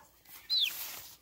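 A sick chick being treated for a lumpy throat ailment gives a single short, high peep, faint against a quiet background.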